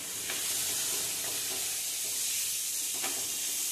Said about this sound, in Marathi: आता हे चांगलं परतून घ्यायचं आहे.